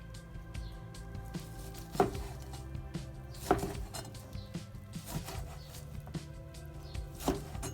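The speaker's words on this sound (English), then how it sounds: "Let's go ahead and cut into it." A knife cutting into a cooked Kroger strip steak, quiet close scraping with a few sharp clicks against the plate at irregular intervals, otherwise near silent.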